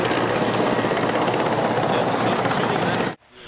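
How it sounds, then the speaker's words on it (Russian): A presidential helicopter flies over Krasnopolye, its loud, steady rotor roar filling the air continuously before cutting off abruptly near the end. "И вот в небе над Краснопольем рокочет президентский вертолет."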